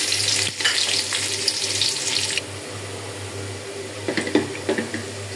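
Onion frying in a pan for a vegetable dish gives a bright, close sizzle that drops noticeably after a couple of seconds. A low steady hum runs underneath, and a few clinks of stirring follow.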